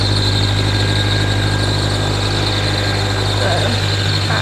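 A tractor engine runs close by in a loud, steady low drone with a thin whine on top, unbroken for the whole stretch.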